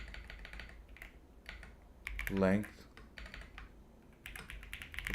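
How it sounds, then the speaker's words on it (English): Typing code on a new computer keyboard during a live coding session, with steady clacking keystrokes running under a man's quiet speech throughout. "So hard to type with this new keyboard."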